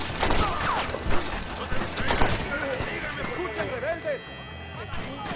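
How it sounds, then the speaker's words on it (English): Gunfire from a Western shootout in Red Dead Redemption, a scatter of sharp shots at mixed distances over a busy game soundscape with music and movement, with voices talking over parts of it. "I hear shots, but don't see people."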